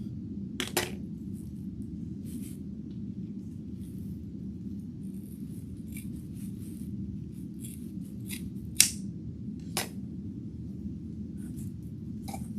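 Scissors cut through burlap for a Valentine's Day cow wreath, with a few sharp snips spread across a quiet stretch over a low steady hum.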